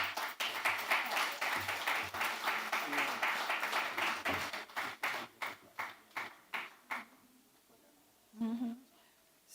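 An audience claps in welcome for a speaker, starting as dense applause that thins into a few separate claps, followed by a short spoken bit.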